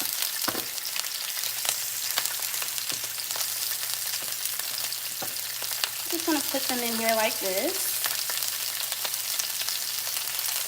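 Meatballs sizzle loudly and steadily in a hot pan with a few clicks and taps, and a person briefly talks partway through.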